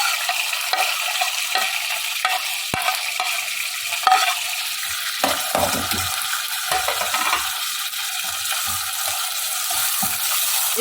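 Chopped onions frying and being stirred in a pan for palak keema, a steady broadband sizzle with frequent scraping stir strokes, close and continuous with no talking.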